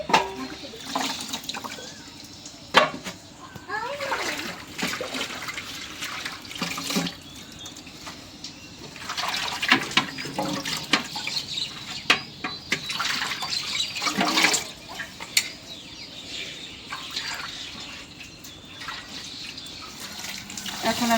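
Rice being washed in water by hand while cooking at home, with splashing and running-water sounds coming in irregular bursts near the microphone, under and between speech.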